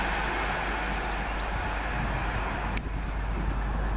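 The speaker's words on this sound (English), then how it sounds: "the 1617 London Midland service from Birmingham New Street to London Euston" A London Midland passenger train, the Birmingham New Street to London Euston service, rumbles past at Wolverton as a steady, loud rolling roar with wind noise, continuous throughout.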